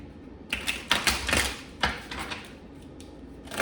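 A deck of tarot cards is shuffled up close, giving a run of crisp, clattering bursts and flicks of card against card, with quieter rustling between them and no talking.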